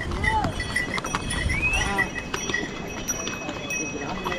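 Horses move along a crowded mountain pilgrimage trek path, with hoof clops and animal sounds blending into steady crowd noise and voices.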